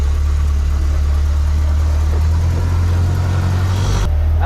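An Austin Ten Special with a 2.3 side-valve engine idles steadily and loudly at close range, a deep constant rumble that cuts off sharply near the end.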